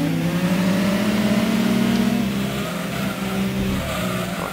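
A race car engine from the Gran Turismo 2 racing game, in a compact car world cup race, drones loud and steady throughout, its tone shifting slightly as the car accelerates, with no voices.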